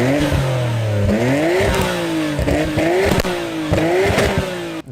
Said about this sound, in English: It's an RB, so it sounds decent, but it's quiet.